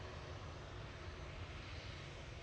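A Ryanair airliner coming in to land at Manchester Airport, heard as a steady, distant engine roar with a broad rushing quality, faint and unbroken throughout.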